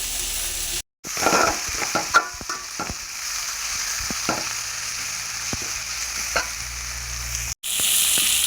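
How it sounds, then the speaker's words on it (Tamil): Crushed garlic and masala sauté in a pan as the base for a Tamil home-style chicken dish, giving a steady close sizzle broken by stirring scrapes and two brief gaps of silence. "இது எல்லாமே சேர்த்து நல்லா வதக்கிக்கிடுவோம்"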